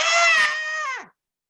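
A human voice imitates a screaming baby, giving one loud, sustained wailing shriek that lasts about a second and then cuts off into silence.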